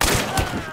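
Gunfire in the video game Hunt: Showdown, a quick cluster of sharp shots with a low thumping tail, loud and close, with no talk over it.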